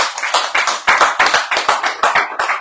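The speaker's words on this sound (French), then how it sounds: "Allez, on va les applaudir parce que ça va les aider à traverser ça." Audience applause at a live French radio bistro show, a steady burst of many hands clapping, loud and close, with no talk over it.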